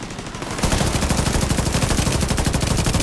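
A deployed turret in The Division 2 opens up with a continuous rapid stream of loud automatic fire, steady and close, after a brief quieter lead-in.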